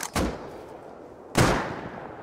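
Two heavy sniper rifle shots in a video game, each a sharp, loud crack with a short ringing tail, spaced a little over a second apart.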